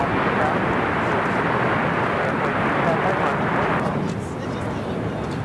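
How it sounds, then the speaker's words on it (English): A Gulfstream V business jet taking off at LAX gives a steady, loud broadband roar that holds evenly, then eases slightly toward the end. "It's a Gulfstream 5 taking off."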